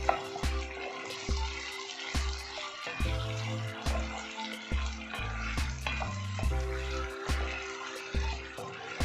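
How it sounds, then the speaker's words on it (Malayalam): Fried eggs tossed into sizzling sauce with curry leaves for egg 65, a constant pan sizzle with a steady series of knocking spatula strokes and scrapes, close by. "ഫ്രൈ ചെയ്ത് വെച്ച എഗ്ഗും ഇട്ട് കൊടുക്കാം. എന്നിട്ട് നന്നായി മിക്സ് ചെയ്യാം."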